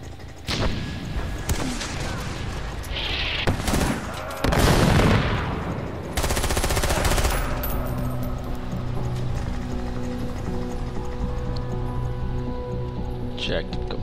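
Gunfire and explosions from the video game Far Cry 4 burst out in bursts and heavy booms early on, then give way to a steady game soundscape with a voice talking over it.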